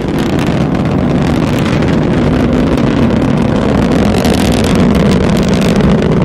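A rocket climbs with its strap-on boosters at full thrust while the core booster throttles down to partial thrust. The engines give a loud, continuous roaring rumble with no pauses and no voices over it.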